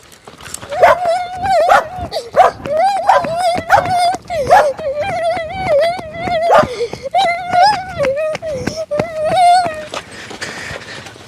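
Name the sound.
dog barking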